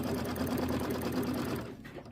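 A sewing machine runs a quilting stitch on a mini quilt, a steady close mechanical whir that holds, then eases off near the end.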